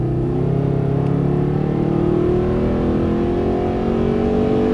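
A Mercedes-Benz SLS engine pulls hard at full throttle on a racetrack, a loud, close, continuous roar that climbs steadily in pitch.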